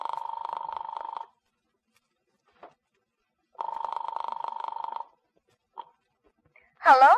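A telephone rings twice after dialing, each burst a buzzing trill of a second or so separated by silence, followed by faint clicks and a short voice at the end.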